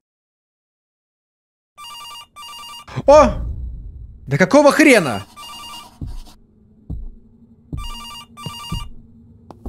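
A telephone rings inside a video game in two-burst electronic rings, heard three times, while a man exclaims loudly and talks between the rings.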